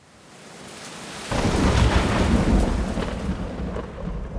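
A sudden loud thunderclap crashes in over a soft rain hiss, then rolls on as a dense, rumbling downpour of steady rain, close and full, with no speech.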